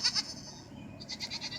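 A goat out in the rain gives short, shrill screaming bleats, one pair at the start and a rapid string of cries near the end, over a soft background hiss.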